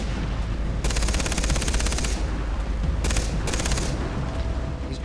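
Turret gunfire in Far Cry 3, two bursts of rapid automatic fire, the first long and the second shorter, loud and close over a steady low rumble of game ambience, with no talking.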